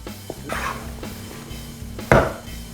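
A spoon stirs thick choux pastry dough in a pot to cool it, with scraping and knocking against the metal and one sharper clank, no voices.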